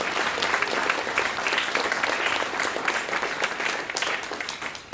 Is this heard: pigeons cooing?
no